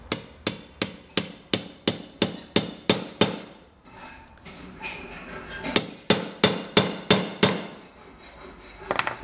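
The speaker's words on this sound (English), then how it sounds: "So centre punching." A hammer striking a centre punch on steel tube for a bike trailer build, a run of about a dozen sharp, evenly spaced metallic taps, a pause with faint shuffling, then another quick series, close and distinct.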